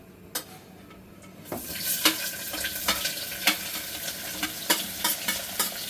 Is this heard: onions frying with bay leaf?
yes